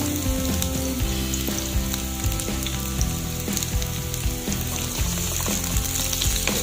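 Garlic and onion sauté in a pan for a Filipino squash and string bean stew, a steady dense sizzle with frequent small crackles holding an even loudness throughout, close and with no voices.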